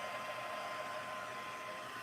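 A hair dryer blowing steadily over a small 6x8 mixed media canvas still wet with paint, a constant close whooshing hum that holds level throughout with no voices.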